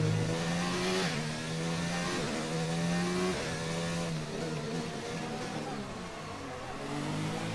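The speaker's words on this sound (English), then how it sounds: "we're gonna brake, downshift 5 times" An F1 car in F1 2019 brakes hard and drops through its gears, the engine note stepping down in repeated revving blips, loud and continuous with no talk over it.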